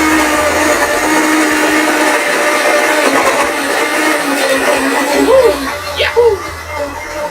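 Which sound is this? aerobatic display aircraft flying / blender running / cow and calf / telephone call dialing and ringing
blender running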